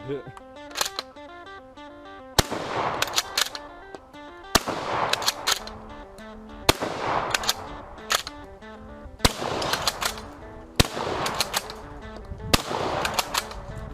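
An I.O. AK47 rifle fires about six loud, sharp single shots at irregular intervals of roughly two seconds, each with a ringing decay, over a steady background of music.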